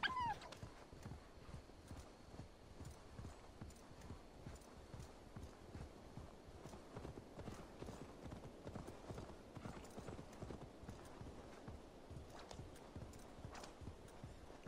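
Horse hooves clip-clop steadily while riding in Assassin's Creed Valhalla, a quiet, even trotting rhythm that continues throughout with no one speaking.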